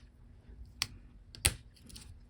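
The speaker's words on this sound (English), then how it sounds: "it's just a matter of snapping it back in place" A key on an iBook G3 clamshell laptop keyboard snaps into place, giving two crisp plastic clicks about half a second apart, close and alone.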